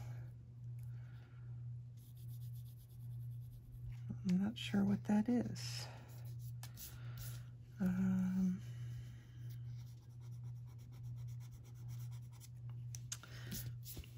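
A Prisma colored pencil scratching over paper while coloring skin tones, soft close dry strokes in short bursts, broken up by someone talking quietly in between over a steady low hum.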